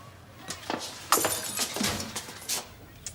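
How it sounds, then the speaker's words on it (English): Window glass smashes in a few bright, crashing bursts, with scattered tinkling fragments between them, heard at a moderate distance with no talking. "it sounded like glass"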